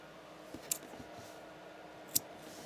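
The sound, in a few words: scissors being handled and snipping yarn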